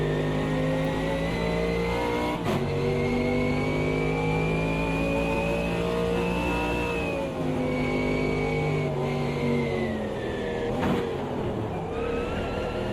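A race car engine roars steadily at Bathurst in a VR racing game, revving high and holding a sustained loud drone with pitch shifts as it accelerates and brakes through corners, continuous throughout with no talk.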